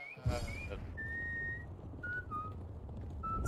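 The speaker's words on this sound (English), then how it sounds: "Sam, please stop whistling." A Serious Sam video game character whistles a wandering tune in separate sustained notes, clear and fairly loud over steady in-game background noise.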